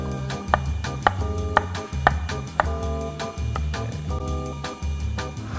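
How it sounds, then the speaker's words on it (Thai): A knife chopping carrots for fried rice on a cutting board, with about a dozen sharp, evenly spaced chops in a steady rhythm, close and clear over a soft background hum, no talking. "เริ่มจากเราจะเตรียมหั่นผักต่างๆนะครับ"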